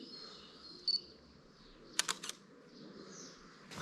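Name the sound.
camera shutter clicking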